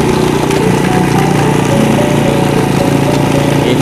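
A motorcycle climbs a steep village road with its engine labouring in a loud, close, steady drone, rough and throbbing throughout, with no talk over it.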